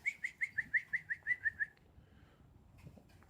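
Finches call in a quick series of about ten bright, evenly spaced chirps close by, then fall quiet, leaving soft rustling and faint movement that could be wing flaps near their nest.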